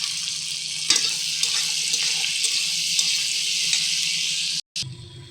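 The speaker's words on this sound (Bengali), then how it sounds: "ডিম ভেজে যে তেল থেকে গেছে সেই তেলে পেঁয়াজ কটা লাল লাল করে ভেজে নেব।" Onions frying in oil left over from frying eggs, a loud continuous close sizzle with faint stirring clinks underneath, briefly cutting out near the end before the sizzling resumes.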